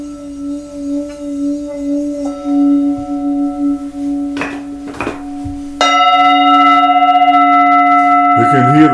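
Singing bowl sounding two notes, D4 and F5, a sustained humming tone that wavers between them, with a few soft knocks and a brighter, louder resonance swelling in partway through.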